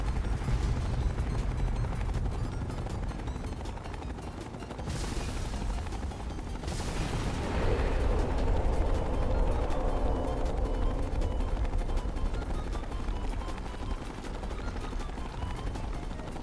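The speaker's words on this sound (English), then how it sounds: "There may be a lot of loud explosion noises" Explosions and gunfire in a Fallout video game, two heavy blasts a couple of seconds apart over a rumbling rush of machine gun fire and helicopter-like drone, loud and continuous.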